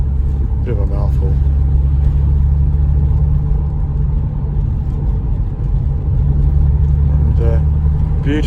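A Porsche 911 Carrera 4 Gen 2 with a six-speed manual and four-wheel drive gives a loud, steady low engine rumble from inside the cabin while driving, with brief talk over it.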